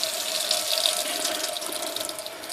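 Warm water running from a tap while a vaping clearomizer is rinsed, a steady close splashing stream with a faint tonal hum, no talking.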